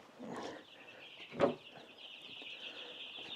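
Young chicks about ten days old, hybrid 757s on a pasture-raised chicken farm, cheep and flutter inside a brooder, with a steady high chirping chorus and a brief louder burst of movement near the middle.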